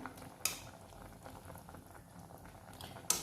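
A beetroot and milk mixture boils in a pot with a steady, soft bubbling simmer, close by, broken by a couple of sharp clinks at the start and the end.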